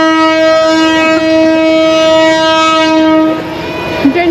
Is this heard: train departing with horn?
yes